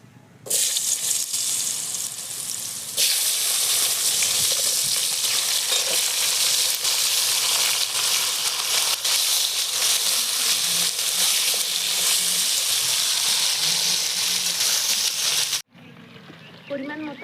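Mixed vegetables hiss and crackle loudly as they hit hot oil with cumin and dried chilli, a steady dense sizzle with occasional stirring that runs almost the whole time before cutting off near the end.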